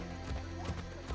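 Horse in Assassin's Creed, a game set around 1500 CE, giving a brief clip-clop of hooves with a short whinny while being mounted, set against steady game ambience.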